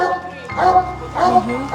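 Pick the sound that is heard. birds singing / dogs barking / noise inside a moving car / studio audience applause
dogs barking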